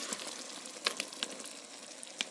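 Liquid from cooked caramelized apples draining off in a kitchen, a faint wet trickle with a few soft splashes and light clinks, no voices.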